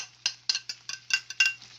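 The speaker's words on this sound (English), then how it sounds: "Chop those eggs up like that." A utensil chops cooked eggs into salmon and chicken fried rice in a pan, giving about eight quick, light metallic taps in a steady rhythm, close by.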